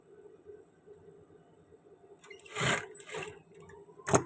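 A sewing machine runs a short locking stitch on a men's shirt. Faint mechanical ticking comes first, then two brief bursts of close, buzzing stitching, and a final sharp click.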